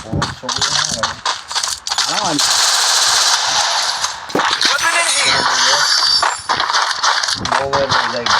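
Gunfire rattles through a ranked Counter-Strike match in rapid automatic bursts and single sharp shots, loud and close, with metallic clangs. Players talk over the shooting.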